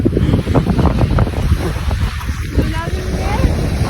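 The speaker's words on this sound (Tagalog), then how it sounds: "napakalakas pala dito ng alon" Rough, rushing ocean waves and surf churn close by at an island shore, with heavy wind buffeting the microphone throughout.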